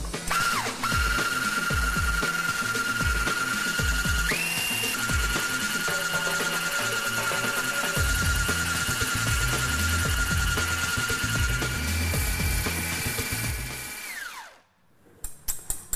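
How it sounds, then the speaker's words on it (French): Electric hand mixer whipping egg whites in a bowl, a loud steady whine that runs alone for about fourteen seconds, shifting speed partway through, then cuts out. "pour monter mes blancs en neige, il me faut un batteur électrique"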